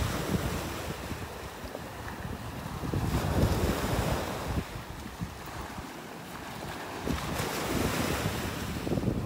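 Ocean surf washes onto a beach in North Naples, Florida on a morning walk, a loud continuous roar of breaking waves mixed with gusty wind buffeting the microphone, with no speech.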